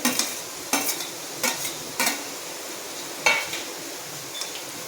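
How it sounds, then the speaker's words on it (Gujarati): Finely chopped tomatoes sautéing in a pan, a soft continuous sizzle broken by several sharp scraping stirs of a utensil against the pan at irregular intervals, close by. "અને આપણે 2 થી 3 મિનિટ માટે સાતળી લઈશું।"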